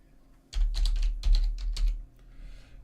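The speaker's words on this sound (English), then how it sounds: "I'll type brackets down here." Brackets typed on a computer keyboard: a quick, close cluster of about a dozen light key clicks in a two-second burst, then quiet.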